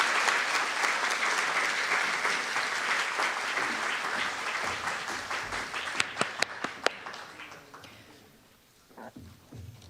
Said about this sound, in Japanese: 皆様どうぞ大きな拍手でお送りください